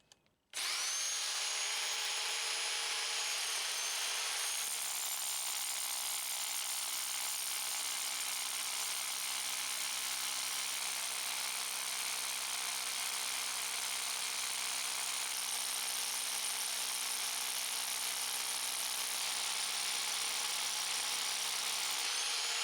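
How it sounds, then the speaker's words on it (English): A rock drill grinds steadily into stone for splitting with feathers and wedges, a loud continuous high whine that runs unbroken and close for the whole stretch. "your drill won't last very long."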